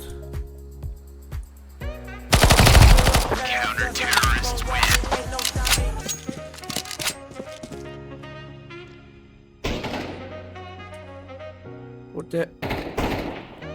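PP-Bizon submachine gun fire in a video game: rapid automatic bursts, loud and dense, mixed with game music and effects, and the bursts stop and start several times.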